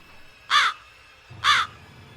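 A crow gives two loud, harsh caws about a second apart, close and clear over a quiet low background hum.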